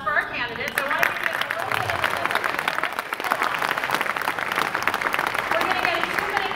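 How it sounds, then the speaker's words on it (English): A debate audience at an election event gives the candidates a round of applause, thick continuous clapping throughout with a brief voice at the very start. "big round of applause for our candidates"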